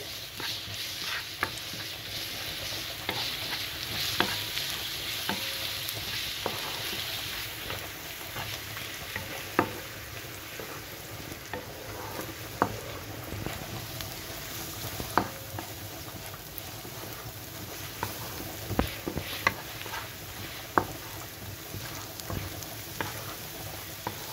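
Grated garlic, two or three cloves, sizzles and fries steadily in a pan of grated carrot, with occasional sharp clicks and scrapes of stirring over a constant hiss.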